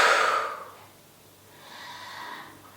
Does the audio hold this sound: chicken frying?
no